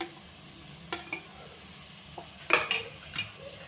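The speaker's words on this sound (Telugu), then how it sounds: "కలుపుకొని ఒక 1 మినిట్ ఆయిల్లో ఫ్రై చేసుకోండి" Chana dal frying in oil for a cauliflower curry, a faint sizzle under a few sharp scrapes and clinks of a spoon stirring against the pan, with short irregular stirring bursts.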